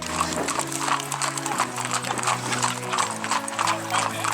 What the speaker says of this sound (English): the horses that were on top of the plateau, they start coming down